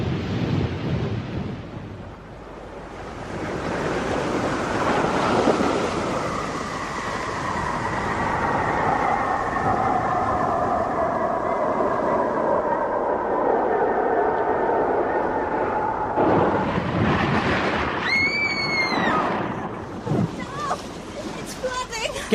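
Radio drama sound effect of a spacecraft crashing into the sea: a long roaring rush like surging surf and rumbling machinery, steady and loud, with a descending whine, then a sharp crash and splash near the end.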